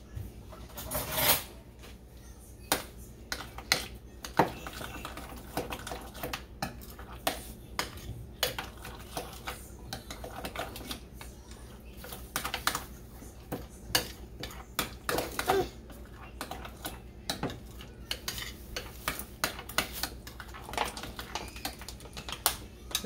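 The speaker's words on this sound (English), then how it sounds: "And then we're just going to mix it." Brussels sprouts being tossed with ground cinnamon in a bowl, heard as a steady run of close, light clicks and scrapes of a utensil against the dish, with no talking.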